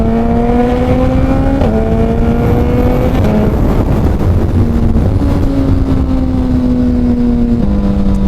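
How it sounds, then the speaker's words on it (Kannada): Suzuki Hayabusa motorcycle fitted with a Dynojet Power Commander 6, its engine revving loudly and continuously, pitch stepping up and down with throttle blips and holding steady between them, close by with no talk. "ಥ್ರಾಟಲ್ ರೆಸ್ಪಾನ್ಸ್ ನೋಡಿ, ಮುಂಚೆ ಕೊಡ್ತಾ ಇದ್ರೆ ಇವಾಗ ಬೇಗ ತೊಗೊತದೆ."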